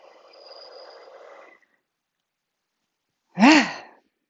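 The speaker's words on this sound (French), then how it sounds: "Grande respiration." A big, deep exhaled breath taken while seated during a stretching session: a single audible sigh-like release near the end, preceded by a softer breathy stretch of sound and a brief silence.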